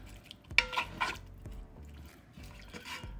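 A spoon stirs a barbacoa mixture of beef, cloves, bay leaves and beef broth in a cast-iron Dutch oven, giving soft scraping and a few clinks against the pot, with wet sloshing, close and quiet, no talk.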